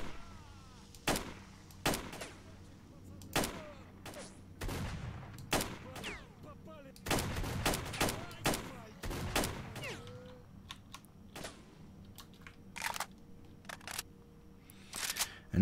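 Shotgun and rifle fire in S.T.A.L.K.E.R., a long string of sharp, separate shots that come irregularly and sometimes in quick clusters, loud and close against a quiet background, with brief faint talk between bursts.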